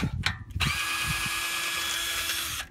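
A power tool fitted with a 17mm socket spins a wheel lug nut off a 2011 BMW 535i, with a short handling clatter and then a steady, loud, high whirring run of about two seconds.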